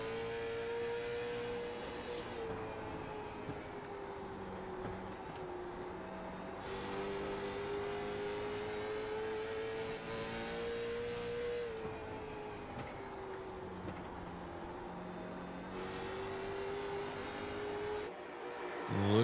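Late model race cars lap a track with a continuous droning engine note that rises and falls as they circle, heard at a moderate distance with no break in the sound.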